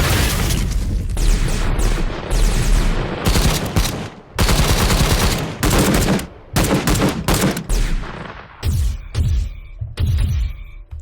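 Futuristic automatic weapon fire built from a sci-fi weapons sound library: loud, dense bursts of rapid shots with booming impacts, broken by short gaps and ending in sparser, choppier bursts.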